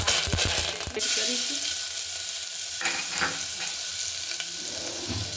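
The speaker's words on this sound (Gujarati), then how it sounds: "આ રીતે લસણ સેજ લાલ જેવું થાય ત્યાં સુધી, બ્રાઉન કલરનું ત્યાં સુધી શેકાવા દેવાનું છે" Garlic, curry leaves, mustard seeds and asafoetida sizzle steadily in hot oil on a medium flame while making stuffed bitter gourd curry. The frying hiss is loud and close, with a few clinks of stirring near the start.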